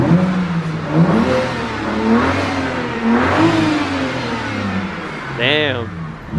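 A Chevy car engine revs loudly in rising and falling surges close by, with people talking over it.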